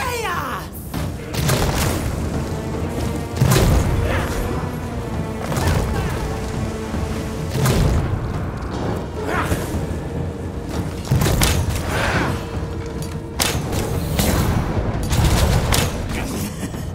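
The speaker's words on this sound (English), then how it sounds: "I like that the trees fall when you fight bosses like him." Heavy booms, crashes and thuds during a boss fight in V Rising as trees fall, repeated irregular impacts and rumbling blasts over continuous combat noise, with occasional talking underneath.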